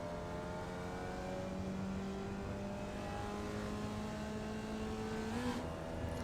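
Formula Vee race car in iRacing on the Tsukuba 2000 full circuit, its engine droning steadily at full throttle while climbing through the gears, with rising harmonic pitch and a shift near the end; no voices.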